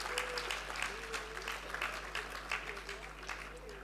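Applause for graduating students at a university convocation ceremony, sustained clapping from a crowd filling the hall, steady and dense, with a constant low hum underneath.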